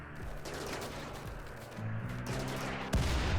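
A steel mortar fires in modded RimWorld alpha 12, a fairly quiet scene of scattered gunfire with rattling shots and a sharp thumping launch near the end.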